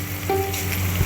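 Omelette egg frying in a pan, a steady close sizzle with faint tonal hum running underneath, brief and continuous without speech.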